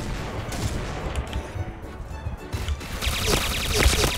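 Rapid gunfire from the Point Blank shooter game, including P90 submachine gun bursts, crackling in dense clusters throughout, with a voice talking over the shots.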